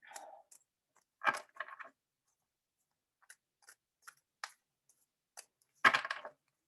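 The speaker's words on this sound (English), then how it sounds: "Just shuffling until it feels good." Tarot cards being shuffled by hand, soft scattered papery riffles and taps in short bursts separated by near silence, quiet and close with no talking.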